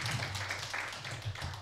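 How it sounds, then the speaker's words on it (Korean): A lecture audience gives a lecturer a brief round of steady clapping, fairly soft and slightly distant, continuous throughout without voices standing out. "우리 나종석 교수님께 큰 격려의 박수 부탁을 드립니다"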